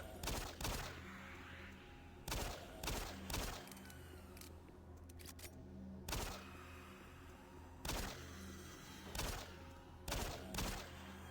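Gunfire in the game Doom 3 sounds as repeated loud shots, mostly in quick pairs and short bursts spread over several seconds, over a low rumbling background.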